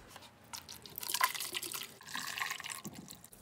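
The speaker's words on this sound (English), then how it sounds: "We already got bubbling, so we got a reaction going." White vinegar fizzing and bubbling inside an electric water heater tank, heard close up as wet, trickling bubbling and dripping that builds and fades over a few seconds.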